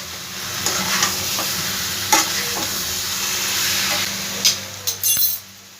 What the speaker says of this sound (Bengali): আলু আর কচুটা মিশিয়ে নেব।